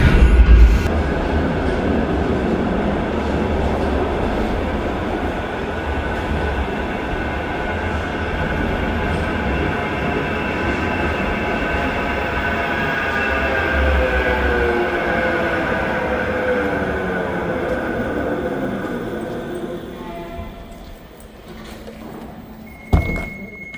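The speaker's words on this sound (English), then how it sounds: "I've literally just run to the tram station to catch the tram" A tram rumbles and rattles steadily as it rolls into a Blackpool tram station, with faint metallic squeals building before it slows to a stop near the end.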